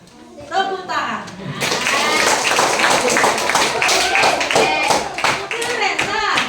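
A room of junior high students bursts into clapping after a short spoken prompt, brisk uneven hand claps building quickly and continuing loudly for several seconds, with children's voices and a voice heard within it.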